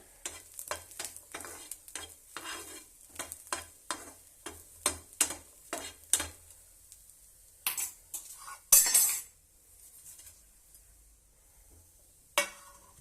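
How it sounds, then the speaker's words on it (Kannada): Garlic frying in a pan for a chutney powder, heard as quiet rhythmic spatula scrapes and clinks against the pan over a faint sizzle, with a louder clatter near the middle and a calmer stretch after. "ಬೆಳ್ಳುಳ್ಳಿ ಫ್ರೈ ಮಾಡ್ತಿದ್ದೀನಿ ಇನ್ನೂ ಕೆಂಪಾಗಬೇಕು"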